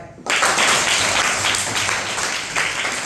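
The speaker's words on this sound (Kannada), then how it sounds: "ಚಪ್ಪಾಳೆ" Fourth-grade children in a classroom burst into a loud round of clapping, dense and continuous for about three seconds, close by.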